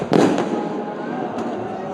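A few sharp firework bangs crack out at the Golden Temple in Amritsar, one loud burst followed by two more spaced apart, over a crowd with voices in the background.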